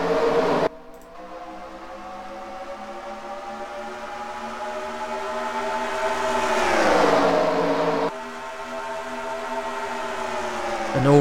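Race cars at Talladega roaring off at the green flag, a loud droning engine pack whose pitch climbs and swells as the field accelerates, then dips and rises again, sustained with no voices.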